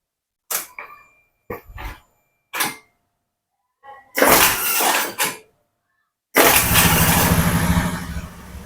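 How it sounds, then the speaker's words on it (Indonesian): A fuel-injected Honda Vario 110 FI scooter, checked for stored ECU fault codes, cranks in several short bursts before its engine catches and settles into a steady, close idle. "saya nyalakan motornya"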